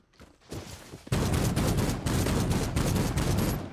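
Rapid, loud bursts of machine gun fire from the Anatolia gun in the shooter game Warface, starting faintly and then hammering away in sustained close-range volleys.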